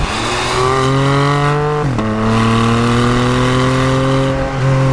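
A loud, close engine of a 2021 Porsche 718 Spyder with PDK revs steadily, its pitch climbing, dipping sharply, then climbing again in a continuous growling roar.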